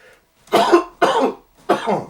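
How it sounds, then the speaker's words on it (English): Three harsh, broadband coughs in a row, close and loud, each a short burst with brief pauses between. "Sorry, I'm coughing like one."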